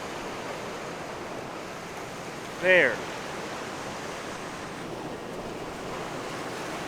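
Ocean surf on a windy day at a sandy beach, a constant broad wash of waves and wind buffeting the microphone, with one brief spoken word partway through.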